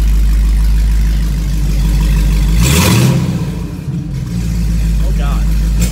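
A Dodge Challenger Hellcat with a very loud modified exhaust idles with a deep, steady rumble, then gives a single short, sharp rev midway before settling back to idle. The sound is close and loud.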